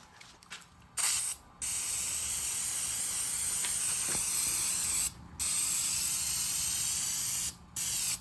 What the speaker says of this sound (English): just spray paint it all black